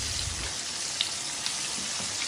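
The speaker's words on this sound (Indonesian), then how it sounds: "Kita akan goreng sampai nanti mateng" Fish frying in hot oil gives a steady, dense sizzle with occasional small pops, close and continuous, with no talking.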